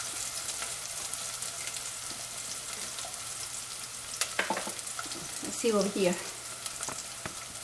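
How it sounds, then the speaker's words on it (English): Onions softening in a hot pan for a chayote dish cooked with coconut and garlic, giving a steady close sizzle and crackle throughout, while a person speaks briefly partway through. "while this onions is getting a little softer, getting cooked"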